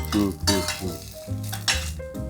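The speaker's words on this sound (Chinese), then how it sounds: "你是用煎牛排等级在煎萝卜糕" Hakka-style radish cake pan-frying in oil, a soft sizzle broken by short metallic clinks and scrapes of a utensil against the pan, close by.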